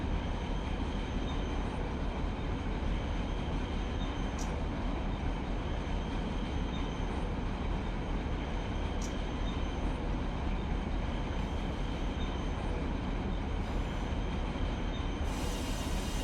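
A freight locomotive runs in a train simulator game on a Norfolk Southern route, a dense steady rumble and rail roar with wheel noise, continuous and fairly even throughout.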